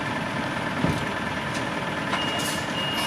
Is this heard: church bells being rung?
no